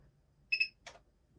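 A Logitech MX Mechanical keyboard gives a short double electronic beep when switching between computers, followed by a brief click in an otherwise quiet room.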